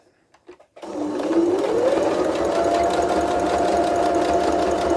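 A sewing machine stitches a fabric face covering up to the seam's end for a few back stitches, its motor whirring loud and steady after a moment of light handling noise.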